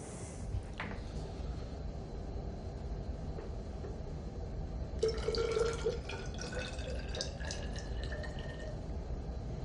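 Tap water is poured into a lab vessel for mixing with 30% hydrogen peroxide, a soft trickling splash about midway over quiet, hissy room tone with a faint early clink.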